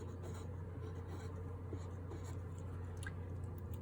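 A pen or marker writes a number on a strip diagram, faint scratchy strokes over a steady low hum, quiet and close, with no talking.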